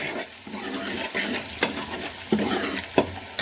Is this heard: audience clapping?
no